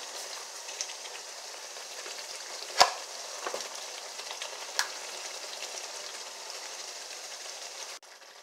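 Spaghetti noodles are stirred into a simmering tomato sauce in a pan: a continuous soft sizzle with occasional clicks of the utensil against the pan, then a sudden stop.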